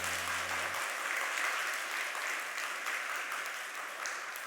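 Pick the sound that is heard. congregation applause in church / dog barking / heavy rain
congregation applause in church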